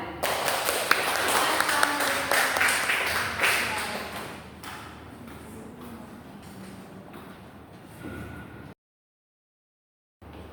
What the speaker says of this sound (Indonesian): Boleh beri aplaus kepada Ulan.